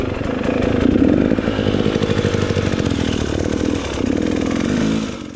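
A 4-stroke dirt bike engine on a tight trail at a hard enduro race, running loud and close with a steady, gravelly buzz that swells and eases slightly before dropping off at the end.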